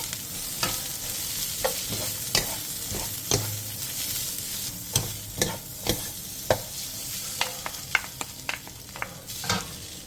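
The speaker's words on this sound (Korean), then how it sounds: "팬에 기름을 두른 뒤 어묵과 다진 마늘 1스푼을 넣고 센 불에서 2-3분" Fish cake and minced garlic stir-fried in an oiled pan over high heat: a constant close sizzle broken by repeated scraping spatula strokes, no talking.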